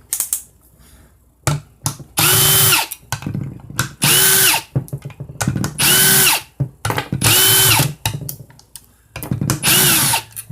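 A power tool spins out transmission valve body bolts in a series of about six loud, close whirring bursts, each a second or so long, separated by clicks, rattles and short pauses.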